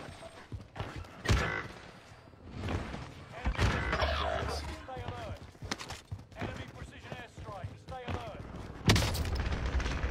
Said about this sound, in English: How did that airstrike hit me?